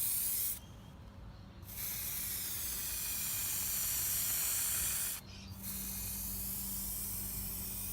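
A restoring coating sprayed onto faded car plastic makes a loud, steady aerosol hiss in two long bursts, each broken by a brief pause.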